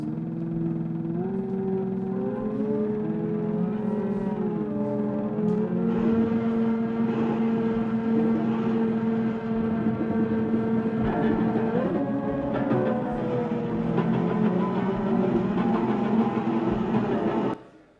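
Luigi Russolo's machine noise music: sustained droning engine-like tones with shifting, gliding pitches and layered harmonic hums, steady and loud throughout, ending abruptly.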